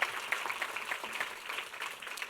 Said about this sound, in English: Please give him a round of applause as well.